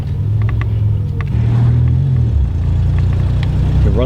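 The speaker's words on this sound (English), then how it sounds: "It runs through the gears a little" Buick Grand National engine pulling up through the gears, a loud, steady low rumble with a brief dip around each shift, heard from inside the car with no talking.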